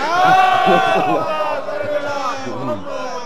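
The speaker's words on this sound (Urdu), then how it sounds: "صلوات ہو جائے محمد والے" A religious gathering at a jashn celebration in Muftiganj, Lucknow, recites salawat together, many voices chanting in unison in a loud, close, resonant swell.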